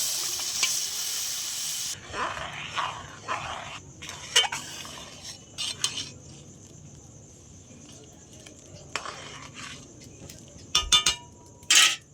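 Chana dal with turmeric and salt stirred in a hot pan: a bright sizzle at the start gives way to intermittent scraping and tapping of a spoon against the pan, with quieter gaps between strokes.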